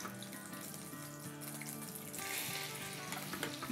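Cumin seeds hit hot oil for a dhaba-style dal tadka, giving a soft continuous sizzle that grows stronger partway through, with faint tonal background sound underneath.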